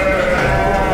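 Lambs bleat at a livestock market, a loud, close, continuous chorus of overlapping calls.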